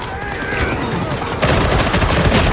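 Autogun in Warhammer 40,000: Darktide firing continuous rapid automatic bursts, loud and dense, that intensify partway through over a busy game soundscape, with a voice talking over it.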